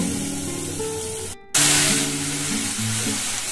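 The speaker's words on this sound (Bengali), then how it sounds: "এভাবে আমি এই মশলাটাকে কষিয়ে নেব।" A ground spice paste with cumin, coriander, turmeric and Kashmiri chilli powder fries in oil, giving a loud, dense, steady sizzle that cuts out for a moment and then returns just as strong.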